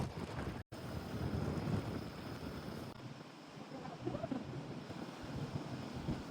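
Cold wind gusting across a mountainside, a steady rough rushing roar buffeting the microphone, with a short dropout early on and no speech over it.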